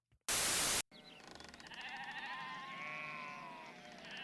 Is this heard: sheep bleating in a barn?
yes